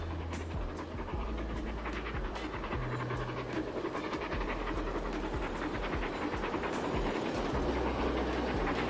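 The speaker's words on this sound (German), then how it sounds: "Und da kommt gerade einer meiner Lieblingsdampflokomotive vorbei." A steam locomotive rolls past in the train simulation game Transport Fever 2: a steady, dense rumble of wheels and machinery with repeated clicking rail beats runs continuously at close range, with no talking.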